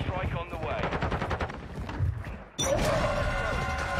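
Video game combat with rapid gunfire bursts and a heavy airstrike impact, loud and continuous, with a sharp explosive surge partway through and dense shooting carrying on afterward.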